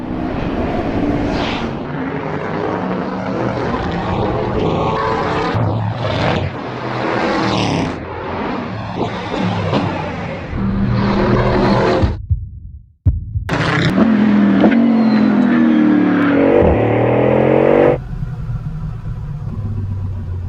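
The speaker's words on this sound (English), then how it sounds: "This car accelerates like nothing else I've ever experienced" A Bugatti Bolide hypercar engine roars loudly as the car accelerates hard, revs climbing through gear changes with a brief cut in the middle before surging again.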